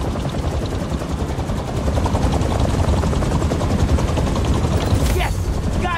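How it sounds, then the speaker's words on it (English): Helicopter rotor blades in the Spider-Man 2 video game thump loudly and steadily throughout, mixed with dense game action noise and bursts resembling gunfire. "helicopter's blades."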